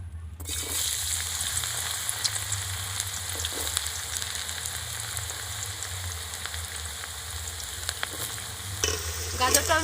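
Carrot pieces sizzle steadily in hot oil in a pan while cooking vegetable khichuri, a constant crackling hiss with faint occasional stirring scrapes and a busier burst at the end, with no voices.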